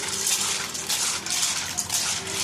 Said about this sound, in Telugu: పాస్తాని ముందు తీసుకొని చక్కగా వాటర్తో కడుక్కోవాలి